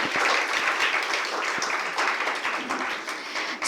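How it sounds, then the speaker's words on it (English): A conference audience applauds the session moderators and speakers with dense, sustained clapping that fills the room and continues steadily to the end, with no talking. "please give a round of applause to our moderators and all the speakers."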